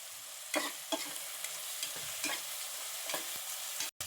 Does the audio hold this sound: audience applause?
no